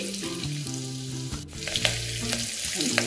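Chopped onion with a pinch of asafoetida, ginger and chili frying in hot oil, a steady close sizzle with scraping stir strokes, a brief dip midway, then renewed crackle.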